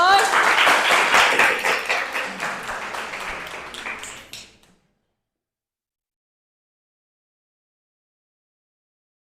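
Classmates clap for a student after her presentation in an English class project, a dense burst of applause that tapers off and stops after about four and a half seconds, with a brief spoken word mixed in.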